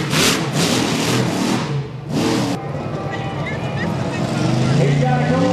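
The Rammunition monster truck's engine roars and revs hard as it whips into a donut during freestyle at a monster truck event in Lima, Ohio. The loud, surging engine runs under an announcer's commentary.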